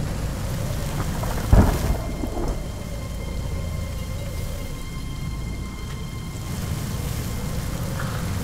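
Steady rain falls outdoors in a dense, even hiss, broken early on by a sharp crack of thunder that rolls away into the downpour.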